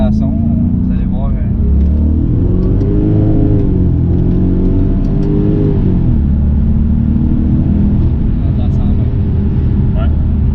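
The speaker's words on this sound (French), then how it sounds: "Fait qu'on va faire une petite accélération." A 2011 Infiniti M56x accelerating, its engine rumbling steadily and rising in pitch through gear changes, loud and close from inside the car.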